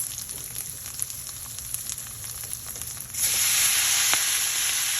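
Steady frying sizzle in a pan that suddenly grows louder and hissier as collard greens are added, a bright continuous crackle up close.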